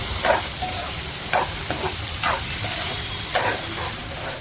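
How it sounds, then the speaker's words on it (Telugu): Brinjal pieces frying in a pan for a mutton gravy, with a steady sizzle throughout and several louder bursts of spatter and stirring scrapes; no talking. "ఓకే చూసారా వంకాయలు కూడా వేస్తున్నా చూసారా"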